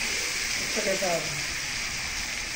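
Mixed vegetables with bitter gourd fry in a pan with a steady, close sizzling hiss throughout, and a brief faint voice surfaces near the middle.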